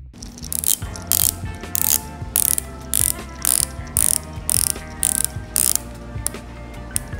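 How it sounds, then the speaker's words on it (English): Rotating bezel on a Viqueria Calipso MKII dive watch ratchets in rapid, evenly spaced bursts of crisp metallic clicks, close up and loud, with no voices. "that bezel that just wins your day as you work with it and listen to its sound"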